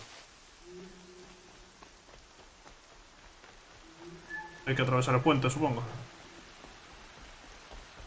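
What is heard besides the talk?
rain in a video game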